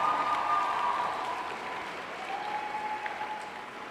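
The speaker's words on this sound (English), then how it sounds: "A round of applause, please." An audience at a UWC Dilijan Teachers' Day event applauds, a steady broad patter of many hands holding level for a few seconds, with a faint tone hanging over the crowd noise.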